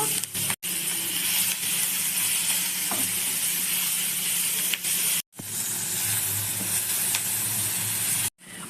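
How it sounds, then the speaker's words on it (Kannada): Chopped onions and curry leaves frying in hot oil on a tawa for tawa pulao give a loud, close, continuous sizzling hiss, broken by a few brief sharp gaps. "ಸ್ವಲ್ಪ ಕರಿಬೇವು ಹೆಚ್ಚಿಟ್ಕೊಂಡು ಈರುಳ್ಳಿ ಹಾಕೊಳ್ಳೋಣ"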